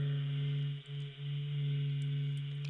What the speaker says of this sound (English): So yeah, this is the sound of the sun.